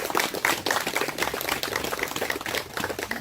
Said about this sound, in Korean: 우리 임성우 박사님에게 여러분 다시 한번 큰 박수 주시기 바랍니다